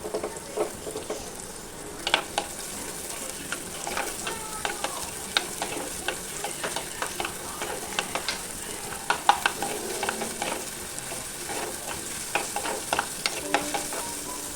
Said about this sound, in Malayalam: നന്നായിട്ട് വഴറ്റുക.